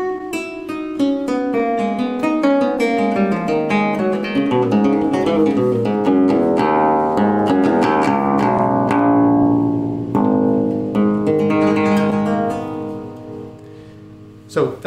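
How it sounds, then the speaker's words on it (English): A solo theorbo plays French Baroque music, running rapid plucked scales over a rich low bass range, with dense ringing notes and a final descending run, close and unaccompanied. "So that's the sound of the solo Theorbos in French Baroque music."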